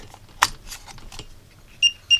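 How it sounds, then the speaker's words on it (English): A $9 AliExpress power meter module set to alarm at 75 watts, triggered by a light bulb drawing 78 watts, gives two short, bright electronic beeps near the end after a clack and some handling noise. "When I plug the light bulb, it should beep."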